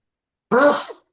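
One short, forceful sneeze bursts out close to the microphone during a relaxed music chat, alone and lasting about half a second.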